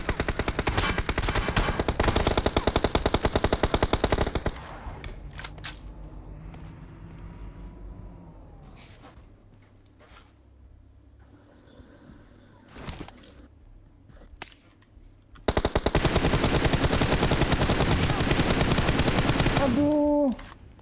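Gunfire in the mobile battle royale game PUBG Mobile: long bursts of rapid automatic fire open and close the segment, loud and close. Sparse single shots and quieter game sounds fill the gap between them.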